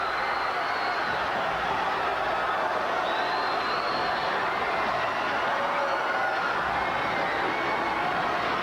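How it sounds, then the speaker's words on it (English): A wrestling crowd at a CWF Continental Wrestling championship match cheers and roars, a dense, steady wash of many voices that holds at an even loudness throughout. "the crowd is going wild"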